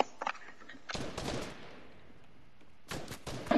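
Gunfire in the Fortnite video game, several bursts of rapid shots: a quick volley at the start, a longer rattling burst, then more shots near the end, moderately loud and close.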